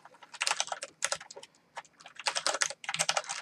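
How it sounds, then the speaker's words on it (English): Bursts of rapid typing on a Corsair Vengeance K90 fully mechanical gaming keyboard, close and crisp clatter in uneven runs separated by short pauses, with no voices. "this is a fully mechanical keyboard with 2 USB ports"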